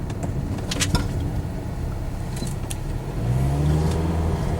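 A 2002 Pontiac Grand Am rolls along a street during a brake test after new front disc pads and rotors, with a low steady engine and road rumble, a few light clicks and a rising engine note near the end.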